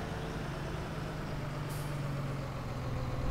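An old tractor engine runs steadily at idle, a low rumbling drone with constant level throughout and no speech over it.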